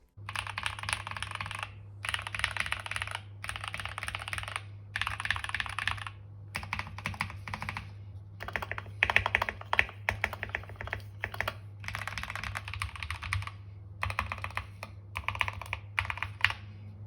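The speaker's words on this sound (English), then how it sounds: "Here's the first sound test." Steady, rapid typing on a modded Keychron K2 V2 mechanical keyboard with Gateron Red switches, with bursts of clacking keystrokes separated by short pauses, close and clear over a low steady hum.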